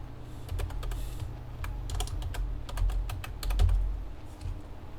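A name being typed on a computer keyboard, with rapid, irregular clicking keystrokes close by over a low steady hum, and no voices.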